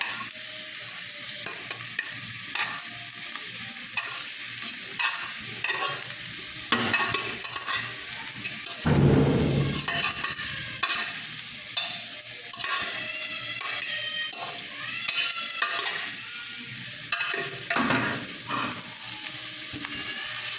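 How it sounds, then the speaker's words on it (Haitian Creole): Meat sizzles and fries in a pan after onion has gone in, the food stirred with steady scraping and clattering for about twenty seconds, with a brief louder burst near the middle; no talking. "on va ajouter la viande là"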